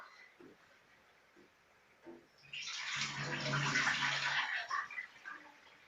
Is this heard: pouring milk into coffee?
yes